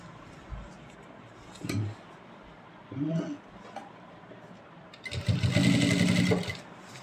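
A sewing machine stitches a kurti collar in short bursts. Two brief runs of whirring come first, then a longer, louder steady run near the end, close by, with no one talking.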